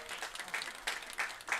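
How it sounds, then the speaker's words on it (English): Football fans in the stands at a Madonna versus Saint Xavier game in Livonia give a round of applause, heard as faint, distant, continuous clapping with a few louder swells. "you hear the round of applause from the fans here in Livonia"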